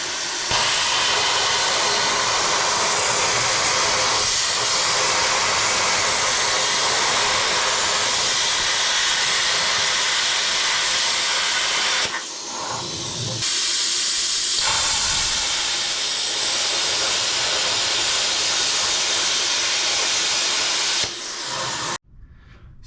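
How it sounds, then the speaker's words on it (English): A plasma cutter cuts notches into brake parts for a 1961 International Harvester B-163 bus, a loud continuous roaring hiss that runs unbroken, dips briefly twice, then cuts off sharply near the end, with no talking. "I'll probably just plasma cut these notches and everything out of the other one"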